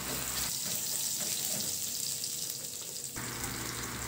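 Finely chopped ginger sautéing in a pan for pork binagoongan, a steady close sizzle with a brief quieter stretch in the middle.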